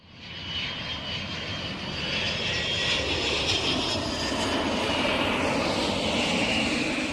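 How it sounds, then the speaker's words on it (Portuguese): A loud airplane engine drones steadily, swelling slightly in the first couple of seconds and then holding a powerful, even roar. "O som do avião é um som forte."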